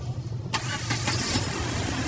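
A Suzuki WagonR with a starting fault fires up after cranking, a sudden catch into a steady, close running engine with a rough, slightly uneven idle.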